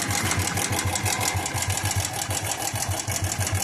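A running motorcycle engine with an abnormal mechanical fault ticks and knocks in a fast, steady rhythm over its constant idle drone, close and loud without voices.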